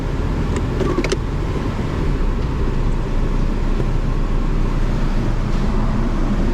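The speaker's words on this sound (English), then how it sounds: "Got a little cylinder 3 misfire." A car engine with a slight cylinder 3 misfire idles in gear inside an auto repair shop, giving a steady low rumble with faint uneven pulsing and a few light clicks near the start.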